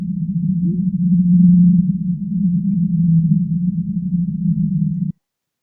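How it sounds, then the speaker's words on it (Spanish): A whale vocalizing in a very low, steady moan that sustains for about five seconds at fairly even loudness, then stops abruptly. "Se trata del sonido de una ballena"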